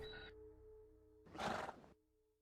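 Donkeys bray in The Perils Of Man, a single loud, harsh braying call bursting out between quieter tonal game music, close and brief.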